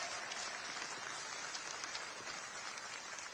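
An audience claps at a political gathering, a dense continuous wash of applause held at an even level for a few seconds, with no voices heard above it.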